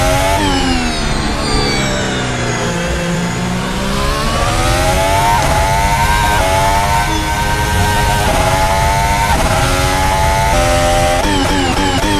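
A championship-winning racing car engine screaming through a lap, loud and close from an onboard perspective, with high-pitched revs climbing and dropping through repeated gear shifts and no pauses.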